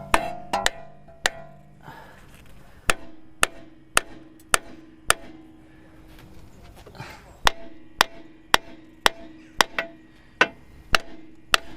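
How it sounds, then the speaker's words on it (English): Sharp metallic hammer blows strike an Audi B6 S4 front suspension part to drive it out, about eighteen loud whacks in uneven bursts, some quick pairs, some spaced apart, with faint clinks between. "we just gave it a bloody good whack with a hammer, and it came out after a while"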